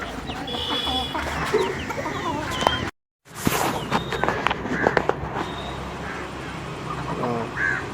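Domestic chickens, including a Kappiri breed rooster, cluck and call repeatedly at home, with ducks quacking among them in a busy, overlapping chorus; a brief dropout cuts the sound near the middle.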